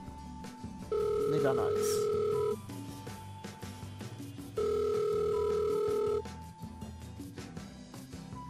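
Phone ringback tone in a Minecraft game map, two long steady electronic rings separated by a pause, fairly loud over background game music, with someone talking briefly.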